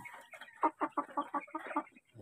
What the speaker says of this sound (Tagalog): Yan ang aking tandang.